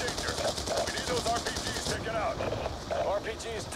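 Rapid automatic gunfire rattles nonstop in Call of Duty Black Ops 2 on PC, dense and steady bursts, with a voice talking over the shooting.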